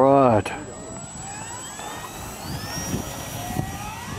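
Aircraft engine drone from the Dawn Patrol flight game, a steady roar with rising and falling whine tones after a brief voice at the start, continuing at moderate loudness.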